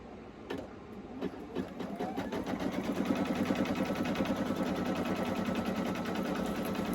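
An embroidery machine stitches out a sublimation patch, a steady rapid mechanical chatter that builds after a couple of seconds and runs on continuously at close range with no talking.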